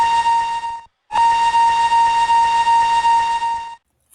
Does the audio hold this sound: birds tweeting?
no